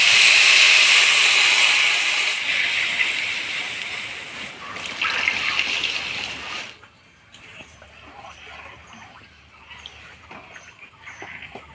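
Water poured into moong dal frying in oil sets off a loud, sustained sizzling hiss that fades after several seconds into quieter bubbling.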